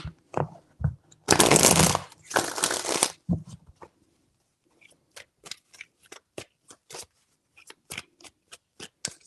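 Tarot cards being shuffled close up, with a dense riffling burst followed by a run of sharp, evenly spaced taps and flicks as the deck is cut and squared.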